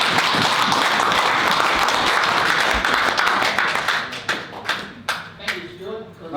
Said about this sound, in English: So you should all clap yourself.